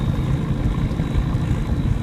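A VW Jetta diesel roaring at high revs while rolling coal out of a hood stack, a loud, dense, continuous rumble filling the whole stretch without pause or speech.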